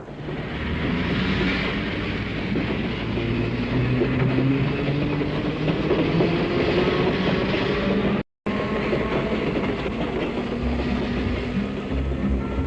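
CNR diesel locomotives rolling on rails, a loud continuous rumble with a low engine drone and rail clatter held at steady level, broken by one brief cut near the end.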